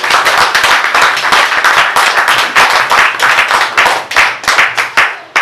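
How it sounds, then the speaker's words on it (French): A church congregation at a consecration service claps loudly and steadily for a preacher, with many hands close by in a rapid, rhythmic burst that is nearly continuous and dips briefly near the end. "Acclamez très fort l'homme de Dieu."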